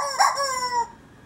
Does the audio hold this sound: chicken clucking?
yes